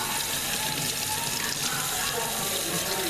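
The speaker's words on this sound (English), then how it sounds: "for time's sake, I'm going to rinse them in cool water." Surgical instruments rinsed under cool running tap water, a steady close hiss and splash of flowing water continuing evenly throughout without talk.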